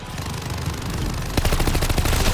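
Rapid, sustained minigun fire from a Call of Duty Vanguard zombies match, a dense close stream of shots that speeds into a harder burst partway through.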